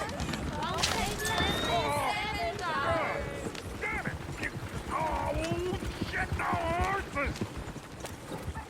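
Horse-drawn coach hooves in Red Dead Redemption 2 clip-clop steadily on a dirt road at a brisk pace, blended with game ambience while characters talk over them.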